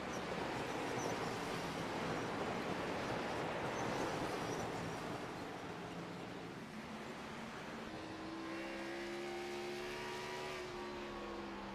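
Race car engines roar in iRacing around a camouflaged Rolling Rock Chevrolet, a steady loud drone of several cars, with engine notes rising in pitch as one accelerates closer near the end.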